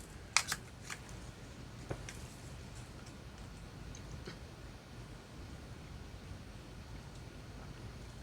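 Scissors trimming a paper round for a handmade journal tag, a few faint snips clustered at the start and a couple more scattered later, then mostly quiet room hiss.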